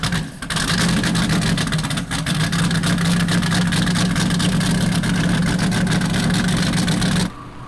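A 46-foot skater-hull race boat with twin naturally aspirated V16 engines at an offshore racing event. Its engines give a loud, steady, close roar that holds for about seven seconds before cutting off abruptly.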